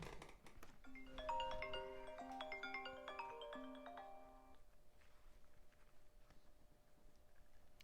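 A phone ringtone plays a bright, repeating melodic chime for several seconds, loud at first and then cutting off abruptly, leaving quiet room tone behind.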